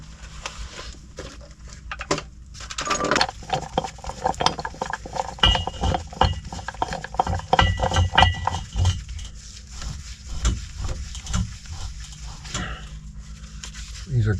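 Floor jacks are cranked by hand to raise a sagging floor, giving steady ratcheting clicks and metallic clinks in repeated bursts, with occasional voice between cranks.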